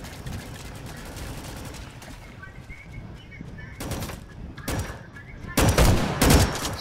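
Shotgun fire in a Rolling Thunder online shooter: a rattle of mixed gunfire, then several loud separate blasts in quick succession toward the end, close and sharp.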